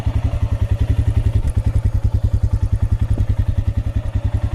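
A Royal Enfield Himalayan motorcycle engine idles steadily after starting, a loud, close, even low thump repeating in a fast regular rhythm with a brief hitch partway through.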